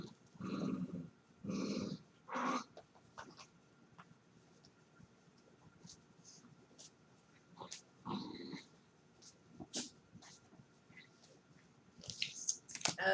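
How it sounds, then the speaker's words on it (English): A small dog growls in bursts, close and fairly quiet, with low rumbling pulses and brief pauses between them, alongside a few sharper snaps or clicks. "That's actually the little dog that is growling like that."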